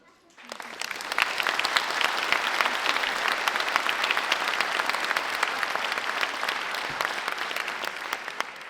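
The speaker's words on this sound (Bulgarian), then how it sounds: "те ще заслужат вашите силни аплодисменти" Audience applause at an anniversary concert of a folk dance club, starting quietly then swelling within a second into loud, dense, sustained clapping that continues steadily to the end.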